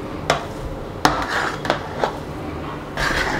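Mutton biryani being mixed in a pot, sharp spoon clanks and scrapes against the metal at irregular intervals over a low kitchen background, close by.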